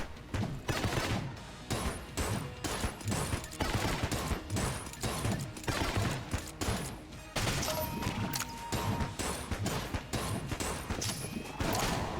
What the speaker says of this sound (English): Grenade launcher makes this easy.